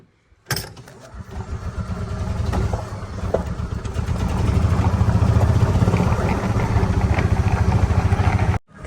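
A golf cart engine, just given a little choke, fires up abruptly and runs loud and close, a steady buzzing idle that grows a bit stronger before cutting off sharply near the end.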